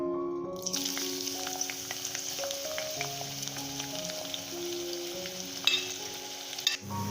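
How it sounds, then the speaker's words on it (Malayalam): Onions frying in hot Dalda in a pan on the stove make a steady, crackling sizzle throughout, close and even, with occasional soft clinks and scrapes of stirring and no talking. "പാത്രം അടുപ്പത്ത് വെച്ച് അതിലേക്ക് ഡാൽഡ ചേർത്ത് ചൂടാക്കിയതിന് ശേഷം സവാള ചേർത്ത് നന്നായി വറുത്തെടുക്കാം"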